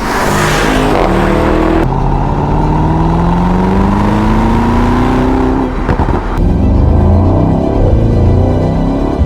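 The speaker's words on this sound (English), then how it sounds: "under the hood you have the 4-liter bi-turbo V8 making 577 horsepower and 590 pound-feet of torque" A 2023 Mercedes-AMG SL 63's 4-liter bi-turbo V8 revs loudly and continuously, its pitch climbing through gears, with a brief sharp burst near the end before settling into a steady roar.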